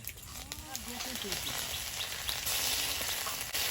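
Nigella seeds sizzle in hot oil in a wok, making a loud, dense, continuous frying hiss with steady crackling throughout and a faint vocal sound underneath.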